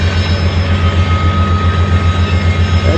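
A low, steady rumble with a constant hum and a faint high whine as a train rolls over a small bridge close by without letup.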